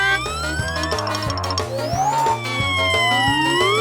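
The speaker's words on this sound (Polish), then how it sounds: "Wóz strażacki pędzi na ratunek." A fire engine siren in a children's video game wails in rising and falling sweeps, loud and close, layered over busy game music with no talk.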